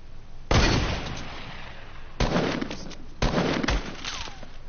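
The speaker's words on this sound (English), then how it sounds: "We're being sniped out from somewhere else." Three loud, sharp sniper shots ring out in a battle royale shooter game, spaced over a few seconds, each with a lingering tail, against a steady background wash and no talk.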